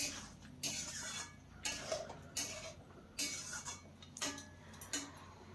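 A spoon stirs cabbage curry in a metal pot, scraping and clinking in several separate bursts with brief pauses between, close and moderately loud with no talking.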